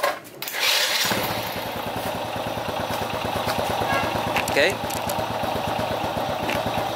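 A motorcycle engine starts with a quick crank, then settles into a steady, close, rhythmic idle that runs throughout, with someone speaking briefly over it.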